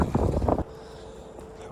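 Wind picking up outdoors along a fence line, a strong low gusty rumble buffeting the microphone for the first half before dropping to a quieter steady breeze.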